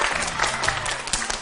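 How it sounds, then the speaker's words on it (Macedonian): A studio audience bursts into steady, dense applause on a Macedonian TV quiz show. The clapping is loud and close and runs the whole stretch without a pause. "Да слушаме аплауз."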